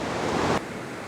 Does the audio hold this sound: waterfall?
yes